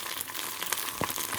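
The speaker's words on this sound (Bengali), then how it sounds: "ঢ্যাঁড়সগুলোকে কড়াইয়ের মধ্যে ছেড়ে দেবো। এবার এগুলোকে আমি ভালো করে ভেজে নেব।" Okra hits hot oil in a wok with a soft, steady sizzle and a few sharper crackles and pops, close and fairly quiet, with no talking.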